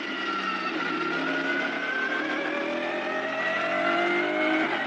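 GT300 race cars at Fuji Speedway give a continuous loud engine roar with high, steadily shifting tones as the cars run nose to tail, sustained for the whole stretch without audible talk.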